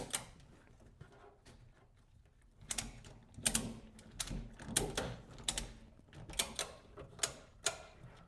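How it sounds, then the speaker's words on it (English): Ratchet strap being tightened around a case on a Ryobi 48V RM480 mower: a series of quiet, close ratcheting clicks in irregular bursts, growing denser toward the end. "Pull that tight, and then go ahead and start ratcheting it down."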